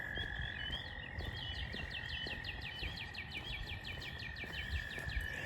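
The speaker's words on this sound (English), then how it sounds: "Wow, them frogs are about obnoxiously loud." A steady chorus of frogs croaking in rapid, repeating trills along a towpath trail, loud and continuous with no voices.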